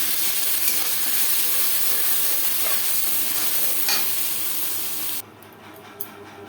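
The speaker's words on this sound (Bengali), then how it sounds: "তেজপাতা পনেরো কুড়ি সেকেন্ড ভেজে নেওয়ার পর দিয়ে দেবো মশলার পেস্ট" Spice paste sizzles and fries in oil with bay leaves for a fish curry with potato and green banana, a steady dense hiss with faint stirring scrapes, then it cuts off sharply near the end.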